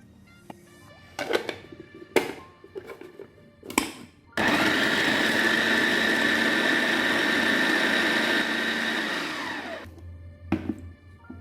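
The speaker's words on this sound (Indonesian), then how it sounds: "Aku pakai chopper aja supaya lebih cepat." A small electric chopper buzzes steadily for about six seconds as it roughly chops garlic and spring onions, its whirring motor slowing slightly near the end. It is preceded and followed by a few sharp knocks and clunks of the appliance being handled.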